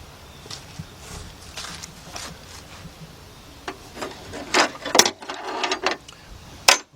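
A ratchet with a 12mm deep 3/8-inch drive socket snugs a bolt while an alternator is replaced on a 1993 Nissan Altima. Quiet, brief bursts of metallic clicking come in short spells, with faint handling noise between them.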